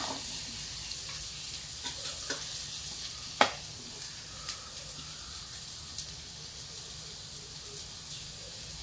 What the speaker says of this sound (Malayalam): മിക്സ് ചെയ്ത് തേങ്ങ നല്ലതുപോലെ ഒന്ന് വാടി കിട്ടണം കേട്ടോ നല്ലതുപോലെ മിക്സ് ചെയ്തെടുത്തിട്ടുണ്ട്